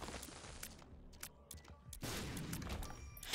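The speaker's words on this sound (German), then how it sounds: "Ah, dieser explodierende Schuss, der hat echt was." Exploding shots in The Binding of Isaac video game: a rapid series of sharp cracks and bursts, with a dense loud blast near the end, no voices.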